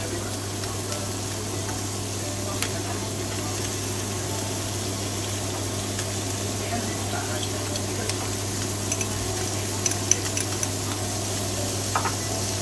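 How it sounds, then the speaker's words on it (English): Butter and garlic melt and sizzle in a pan for a garlic butter seafood salad, a steady close hiss with occasional light clicks over a constant low hum, no talk. "You want to put the butter in, put the garlic in on top."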